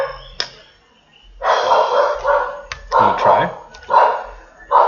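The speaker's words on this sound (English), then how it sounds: "That's a dog." A dog barks in a few loud, close bursts, with short yelping barks spaced a second or so apart, and a person speaks briefly between them.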